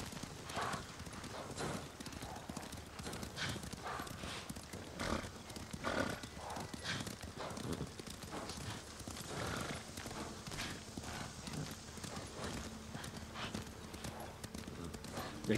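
Hooves gallop at a steady, quick rhythm as a horse runs in the video game Ghost of Tsushima, a continuous clattering heard without talking.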